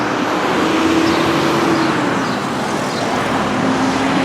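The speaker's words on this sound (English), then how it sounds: "I can hear all the traffic around me, as you can see" Steady, dense road traffic roars close by, with a big truck passing in the mix, forming a continuous wash of engine and tyre noise with no talking.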